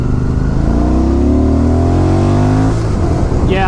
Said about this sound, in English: I put my weight on the gas tank there in first gear when I gunned it